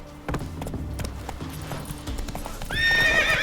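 A horse in The Witcher 3 video game gallops with steady, loud clip-clop hoofbeats close by, then gives a clear whinnying neigh near the end.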